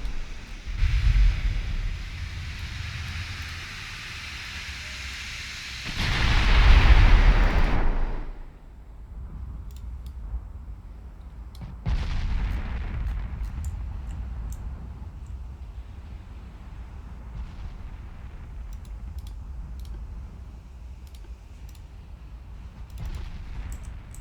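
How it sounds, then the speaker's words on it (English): Warship guns fire in the naval video game Ultimate Admiral Dreadnoughts over a constant wind-and-sea ambience, with a heavy rumbling salvo swelling about midway, a sharper blast soon after, then quieter rolling booms. No one speaks. "it looks like they're moving to try and fire their guns"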